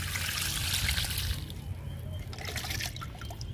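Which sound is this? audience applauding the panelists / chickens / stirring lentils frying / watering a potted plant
watering a potted plant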